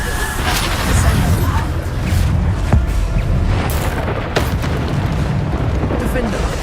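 Spell explosions from Hogwarts Legacy boom repeatedly in a dense, loud run of game combat blasts, with a constant low rumble and sharp bursts layered close together.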